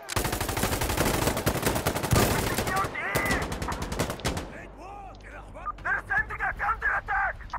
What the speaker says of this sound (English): Drum mag Uzi on top.